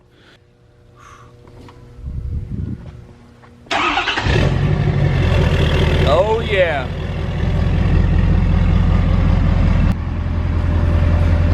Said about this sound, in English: You ready to fire this thing up and hear your new exhaust?